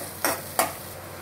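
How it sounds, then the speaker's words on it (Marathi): Chopped onions are stirred in a pan over low gas for a paneer chilli masala, two quick scraping strokes about a third of a second apart over a faint steady sizzle, close and without talk. "आणि जरा वेळ हलवायचं एकदम चांगलं मिक्स झाल्यावर"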